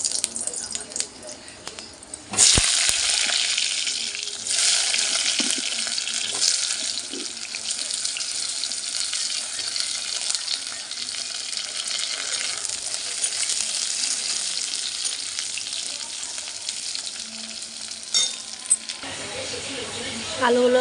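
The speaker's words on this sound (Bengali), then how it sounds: "কড়াইয়ের তেলটা গরম হয়ে গেছে, এবার আলুগুলো দিয়ে দেবো," Potato pieces frying in hot oil in a kadai: a loud, steady broadband sizzle bursts in near the start and holds evenly to the end, close and continuous.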